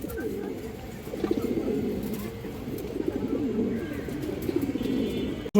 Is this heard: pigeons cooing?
yes